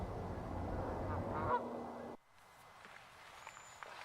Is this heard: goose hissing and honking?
yes